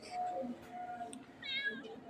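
A cat meows with a rising, drawn-out call near the end, amid faint background noise and a few softer mews earlier.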